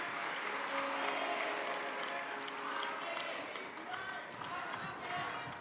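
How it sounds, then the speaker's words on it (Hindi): Audience at a Shiv Mahapuran religious discourse in Bhusawal, Maharashtra, applauding with steady, dense clapping for several seconds, with the mixed crowd noise of a large gathering. "एक बार यजमान परिवार के लिए जोरदार ताली बजाकर उनके लिए साधुवाद करें।"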